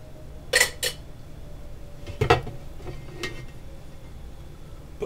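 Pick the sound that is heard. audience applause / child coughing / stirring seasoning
stirring seasoning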